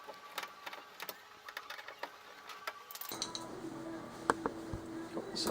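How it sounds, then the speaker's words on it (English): Screws being undone on the lower panel of a Dixie Narco BevMax vending machine, a close run of small metallic ticks and clicks from the driver turning, with a steadier mechanical buzz joining partway through. "I'm going to undo 2 screws for this lower panel"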